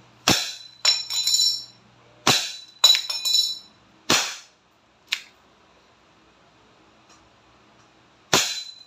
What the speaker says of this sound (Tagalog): Single action. Firing.